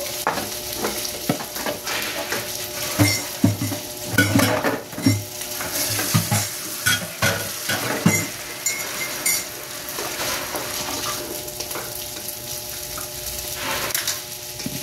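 Sinangag, Filipino garlic fried rice, gets stirred and scraped around a hot kawali, with a continuous sizzle under repeated utensil scrapes and clanks against the pan.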